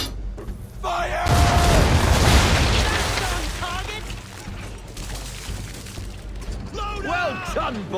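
A ship's broadside of cannons fires in Assassin's Creed III, a loud booming roar that swells and rumbles for several seconds, with voices shouting orders over it and further mechanical clatter.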